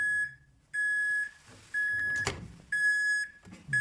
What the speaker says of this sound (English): I'll even wait for the dinger at the end.